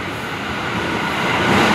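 KRL commuter train passing at Tebet station in Jakarta, a broad steady rumble that swells slightly louder as it goes by, close and continuous.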